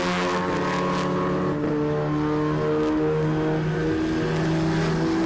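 Volkswagen Polo race cars battle on track in the MRF MMSC Volkswagen Championship 2021, their engines a loud, continuous droning whine with steady pitch shifts throughout.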